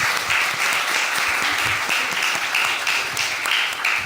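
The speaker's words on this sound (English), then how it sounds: "So maybe we can give this panel a round of applause," An audience applauds a panel at a conference on housing and climate adaptation, with steady dense clapping filling the room throughout at fairly high volume.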